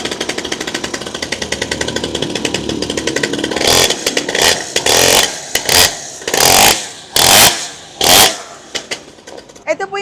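A 49cc two-stroke small-body mini pocket bike engine revs loudly close by, its buzzing drone rising into a series of sharp throttle blips, with people talking faintly underneath.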